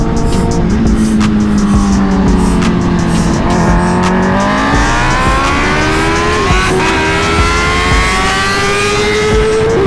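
A superbike races against a tuned Kawasaki H2, loud high-pitched engine howl rising through rapid gear shifts with overlapping revving from both machines, close and continuous throughout.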